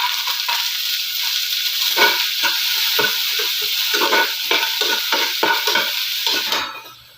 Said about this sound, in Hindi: तो जीरा भुन चुका है और अब डाल देते हैं इसमें प्याज।